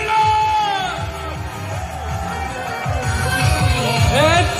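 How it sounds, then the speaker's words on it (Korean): A crowd at a South Korean army coastal brigade outpost shouts and cheers, with whoops and yells rising and falling in waves and a loud surge near the end. "소리 질러!"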